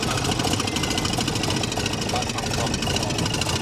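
Audi S5 engine idling close by with a constant rough drone and a fast ticking, tappy knock running through it, steady throughout with faint voices in the background.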